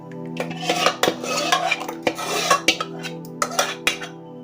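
A spoon scrapes and clanks around a metal pot while jowar flour batter is stirred, giving a steady run of rasping strokes with sharp metallic knocks and no talking.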